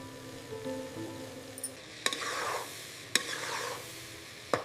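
Turmeric and spices being stirred into a potato egg curry in a pan, with soft scraping passes and three sharp clinks of a spoon against the pot over a low sizzle.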